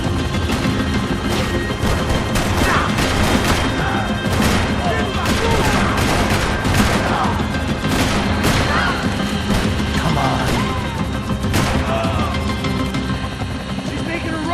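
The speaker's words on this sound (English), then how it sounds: "Max, shoot that bastard." Gunfire in a Max Payne 3 chase, dense bursts of shots mixed with heavy rumble like a helicopter and crashes, loud and continuous throughout with shouting voices and other game sound underneath.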